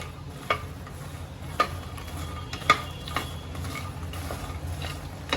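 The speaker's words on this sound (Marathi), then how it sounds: "आता ह्यात मी आपले मखाने जे आहेत ते घालून घेते आणि ह्याला चांगला रोस्ट करून घेते" Fox nuts (makhana) roasting in melted ghee in a pan over a slow flame give a soft, continuous sizzle, broken by a few sharp clicks and scrapes as they are stirred.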